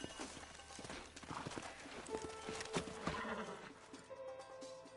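Horse hooves clip-clop steadily over a dense, noisy mix of background sounds and effects in Red Dead Redemption, moderately loud and continuous throughout.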